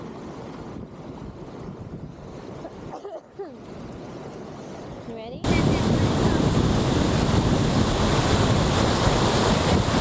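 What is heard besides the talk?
water of a creek being crossed on a hike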